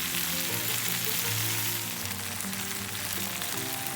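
Kathrikai poriyal, brinjal (eggplant) with spice powder, sizzles and fries in an open pan as it roasts lightly underneath, a steady close crackle with no talk over it.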